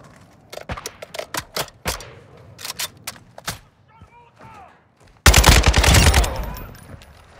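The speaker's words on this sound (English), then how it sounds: "You are taking effective fire" Loud burst of automatic gunfire in Call of Duty Warzone DMZ, a dense rapid volley arriving after scattered sharp single shots and softer game sounds.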